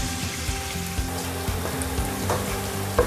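Sliced onions frying in hot oil with a little ghee, browning in a pan: a steady close crackling sizzle with small pops and occasional utensil knocks, no voices.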